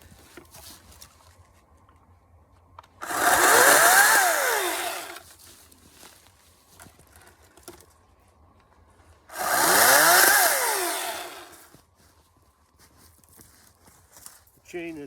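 A Ryobi 40V 14-inch battery chainsaw used for trimming and limbing revs up in two loud bursts of about two seconds each, a high electric whine with rattling chain, separated by quiet pauses.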